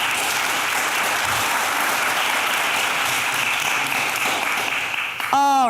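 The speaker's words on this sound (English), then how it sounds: "Could we please give them a warm round of applause?" An audience at a climate-solutions panel gives steady, loud, dense applause that holds throughout, ending with a brief voice at the close.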